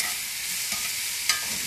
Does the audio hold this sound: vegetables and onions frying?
yes